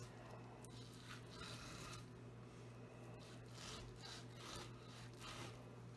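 Serrated knife sawing through the tough fat layer on a smoked brisket, a steady close scratchy back-and-forth rasp with rhythmic strokes, moderately quiet under a low steady hum.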